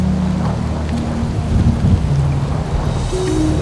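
Heavy rain pours down in the mountains in a loud, dense, continuous roar that drowns everything else, with deep rumbling underneath.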